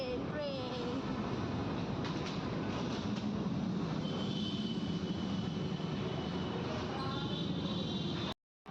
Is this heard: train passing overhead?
yes